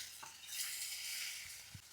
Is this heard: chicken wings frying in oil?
yes